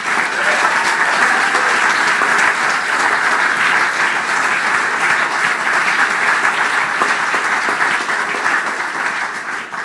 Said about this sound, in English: And also give them a big applause